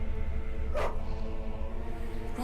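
Dogs bark in The Witcher 1 video game, with a few short barks and yelps in the middle distance over a steady low ambient hum.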